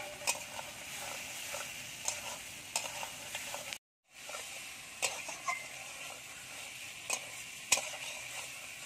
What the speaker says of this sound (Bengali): এই দেখুন মশলা কষানো হয়ে গেছে, মশলা থেকে তেল ছেড়ে দিয়েছে। দিয়ে দেবো ডিম আর পটল,